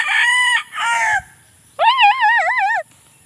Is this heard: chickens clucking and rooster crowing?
yes